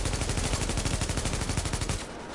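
Rapid automatic gunfire in The Division, a dense, loud burst of closely spaced shots that runs for about two seconds and then cuts off, with no voices over it.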